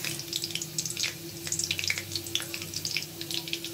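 Chopped garlic and dried chili sizzling in hot oil for pasta, a steady crackling fizz with scattered sharp pops, close and fairly quiet, with a low hum underneath.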